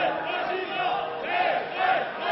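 A crowd of marchers at a May Day political demonstration chanting slogans in unison, a loud rhythmic swell of many voices repeating the same phrase.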